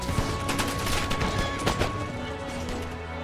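Musket barrage in an Empire Total War battle: a dense, continuous crackle of massed gunfire, sustained and fairly distant, with overlapping volleys and no clear pauses.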